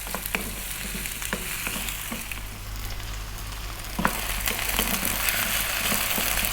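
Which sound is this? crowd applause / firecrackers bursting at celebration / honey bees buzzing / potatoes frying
potatoes frying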